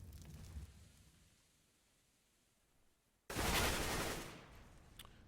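Counter-Strike match gunfire on the de_inferno map: quiet, muffled activity, then a sudden loud burst of rapid shots lasting about a second and a half before it fades, ending on a single faint shot.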